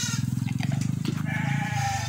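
Garut sheep on an Indonesian farm bleat in a long, wavering, pulsing call up close, with a second fainter bleat and faint background voices overlapping toward the end.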